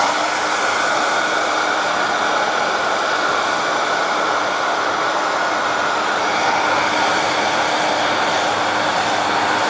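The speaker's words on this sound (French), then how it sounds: "Le petit coup de sèche-cheveux traditionnel." A hair dryer blows continuously at close range inside a Tesla Model 3, a loud, steady whooshing hum with no breaks or voices.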